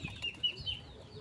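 Chickens cluck in short, quiet bursts outdoors, kept together with pigeons and ducks in a natural yard setting, with a faint higher call over a low background.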